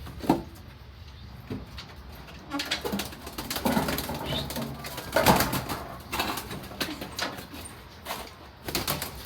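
Pigeons in a loft, with soft cooing and flutters mixed with clacks and knocks nearby, irregular and fairly close, with no clear talk.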